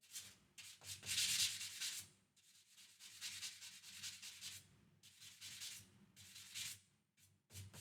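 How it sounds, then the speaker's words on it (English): A worn 80 grit sanding pad rubs over a guitar body by hand in short, uneven strokes, each a soft, breathy scratching swish with brief pauses between passes, quiet and close, with no speech. "I'm going to use a little bit of this 80 grit pad that's worn"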